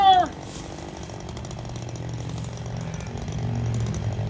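A cheap chainsaw cuts into a tree during felling and drones steadily under load. Its pitch rises toward the end after a brief higher sweep at the start.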